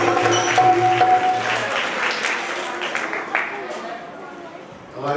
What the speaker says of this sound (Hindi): तालियां जोरदार बजाएंगे, जोरदार।